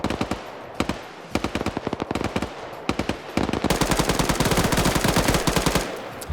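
Sustained suppressive machine-gun fire in a first-person shooter match, rapid repeated bursts of shots that grow denser and continuous toward the end, loud and close with no talk.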